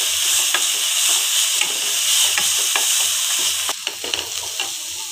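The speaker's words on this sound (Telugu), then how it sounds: "ఉల్లిపాయను కూడా బాగా వేపుకోవాలి. ఒక రెమ్మ కరివేపాకు వేసాను." Onion, ginger and a sprig of curry leaves fry in a pan with continuous close sizzling and hiss, broken by scraping stirs and small crackles, while jackfruit seed chutney is prepared.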